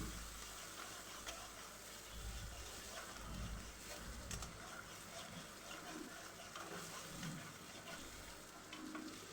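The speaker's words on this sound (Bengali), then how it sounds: "আমি এখন নাড়াচাড়া করে পেঁয়াজগুলো একটু সফট করে ভেজে নিব" Chopped onions fry in mustard oil in a wok, giving a continuous, steady sizzle with occasional stirring noises underneath, close and evenly loud throughout.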